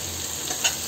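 Steady close sizzle of spices frying in oil in a pan for a Bengali mustard rohu fish curry, a continuous hiss with slight swells as the mixture is stirred, no voices.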